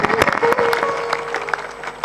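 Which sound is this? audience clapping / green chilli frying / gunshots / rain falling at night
audience clapping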